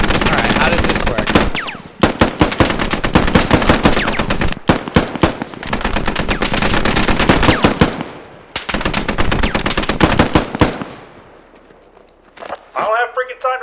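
Machine gun fire in the tactical shooter game Squad comes in loud, sustained bursts with short lulls between them, a voice speaking briefly amid the shooting and quieter scattered shots near the end.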